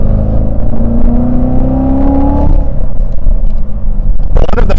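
A Chevrolet Corvette C7 Z06 with a manual transmission and 650 horsepower roars loudly from inside the cabin, its engine note rising under acceleration, then dropping and rumbling on as the revs fall.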